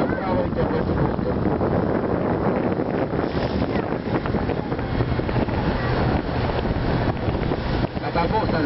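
Motor boat cruising on the bay at Sevastopol, a loud steady engine drone mixed with rushing water and heavy wind buffeting the microphone, with a person talking underneath.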